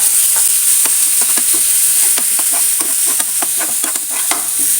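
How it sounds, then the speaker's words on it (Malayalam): Onion with a roasted, ground spice mix sautéed in a hot pan, a loud constant sizzle broken by frequent scrapes and clacks of a spoon stirring, with no voices. "റോസ്റ്റ് ചെയ്ത് അരച്ചെടുത്ത മിക്സ് ഇല്ലേ അത് ഇതിലേക്ക് ചേർത്ത് ഒന്ന് വഴറ്റിയെടുക്കാം"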